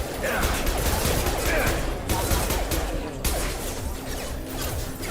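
Repeated pistol shots from the Mass Effect video game crack out in quick bursts, with steady game noise filling the gaps between shots.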